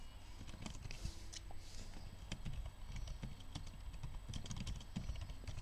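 Irregular clicking keystrokes on a computer keyboard, typed in quick bursts throughout, close and moderately loud over a steady low room hum, with no talking.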